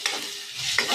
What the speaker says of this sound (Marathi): फोडणी तयार झाल्यावर आपण त्यात भरलेली वांगी सोडणार आहोत